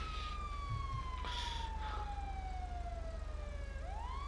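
Police car siren wailing in a slow, steadily descending tone before a short upward sweep at the end, loud over a constant low rumble of vehicle noise.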